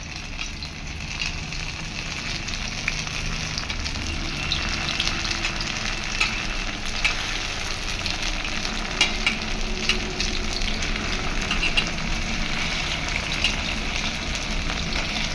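Soybean fritters fry in hot oil in a home kitchen pan, a dense, even, crackling sizzle running unbroken from start to end with occasional small pops and faint stirring, no voices.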